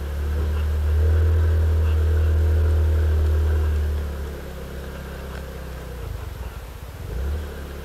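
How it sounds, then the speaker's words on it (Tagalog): A motorcycle engine labours up a steep mountain road in Rizal, a loud, close, low droning rumble that holds steady, then eases and wavers as the bike crawls uphill. "Ang tanong, makakaahon ba yung motor ko?"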